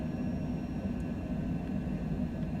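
A Cessna airplane engine in Flight Simulator 2020 drones as a steady, close, loud rumble that holds level throughout with no voices over it.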